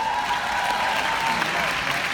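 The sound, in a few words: audience applause at a keynote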